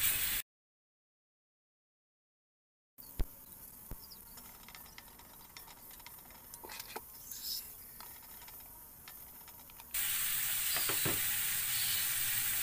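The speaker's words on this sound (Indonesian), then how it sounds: "Nah, ini ditumis sampai matang ya." A paste of red curly chili, bird's eye chili, ginger, turmeric, candlenut and garlic sautéing in oil, steady sizzle with a few stirring clicks. The sizzle cuts out for a few seconds near the start and then returns, growing louder toward the end.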